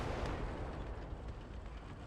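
Artillery fire in the World War II strategy game Gates of Hell, a dense rumbling barrage of distant booms blending into a continuous roar over the short stretch.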